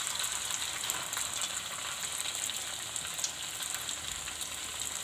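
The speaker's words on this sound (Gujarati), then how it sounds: "હવે આપણે આને તળાવવા દઈશું." Gujarati cutlets frying in hot oil in a pan, a steady dense sizzle with fine crackling, moderately loud and close, continuing without pause and no talk.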